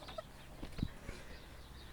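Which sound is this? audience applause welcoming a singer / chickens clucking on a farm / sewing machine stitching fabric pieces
chickens clucking on a farm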